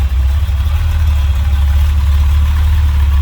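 A 1980 Ferrari 308 GTBi with its 2.9-liter quad-cam V8 idling, a loud, steady, deep rumble with a slightly uneven pulsing beat, heard close to the open engine bay and without any voices.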